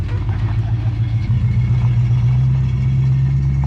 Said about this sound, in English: the exhaust built for that thing sounds good